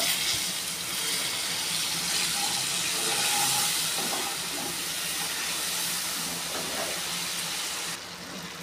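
Water poured into hot frying spice powder for a teasel gourd curry sets off a loud, steady hissing sizzle that holds for several seconds, then eases slightly near the end. No one speaks.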